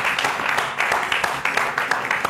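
A Marathi TV talk show studio audience applauds, a steady wash of clapping with dense, overlapping hand claps sustained throughout at moderate level.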